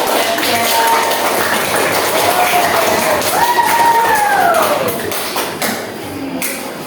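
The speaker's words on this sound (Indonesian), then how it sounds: "Tepuk tangan untuk kelompoknya." A group of people clap together in a dense, sustained round of applause, with voices chattering and calling out over it.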